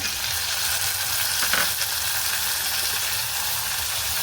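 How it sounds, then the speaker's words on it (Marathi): Onion, garlic and tomato fry in hot oil for a bottle gourd curry, giving a steady, loud, close sizzle with dense crackle and a brief stir scrape midway, no voices. "तेलावर छान परतून घ्या"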